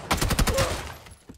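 Fast gunfire from the battle royale game PUBG: a rapid burst of several close shots packed into about a second, dying away into a brief tail.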